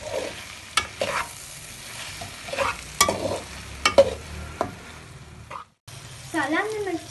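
Masala for bhindi being stirred as it fries in oil, with repeated scraping strokes over a steady sizzle. A short pause comes near the end, and a voice speaks briefly afterward.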